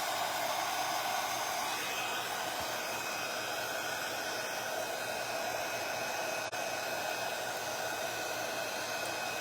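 Heat tool blowing hot air onto a wine bottle covered in tissue paper decoupage, a steady loud whooshing hiss that runs unbroken throughout, with one faint click partway through.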